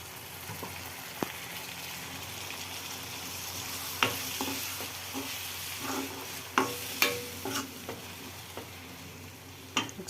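Ground coriander and mint paste frying in a pan for egg masala, with a steady sizzle under irregular scraping stirs and a few sharper spoon knocks, close and fairly loud, no talk.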